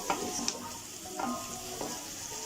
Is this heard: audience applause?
no